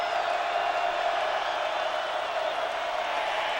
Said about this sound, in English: Here comes the crowd noise again.